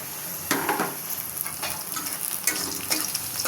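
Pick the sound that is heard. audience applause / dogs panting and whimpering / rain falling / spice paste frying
spice paste frying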